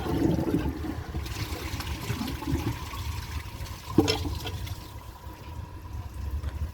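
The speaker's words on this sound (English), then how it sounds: "I'm just going to empty the rest of the water from the tank and see if it can take it." A 2007 Toto Lloyd toilet empties the rest of its tank in a steady rushing flush that swirls and trickles for several seconds, with a brief knock partway through and no talking.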